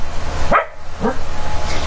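Playful puppies give two sharp, close barks about half a second apart, loud over a steady background hum, with no talking.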